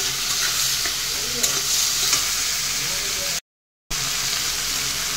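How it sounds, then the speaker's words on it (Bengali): Taro stolons with salt and turmeric are stirred in a hot pan, a steady close sizzle with scraping of the spoon, briefly cutting out near the end before resuming. "হলুদ দিয়ে আবারও একটু নাড়াচাড়া করে নিলাম"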